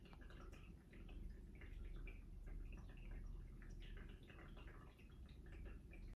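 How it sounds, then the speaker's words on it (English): A cat's water fountain running, a continuous low trickling and burbling of water with small irregular drips, faint and steady, heard alone without speech. "My cat's water fountain is plugged in, but I plugged it out"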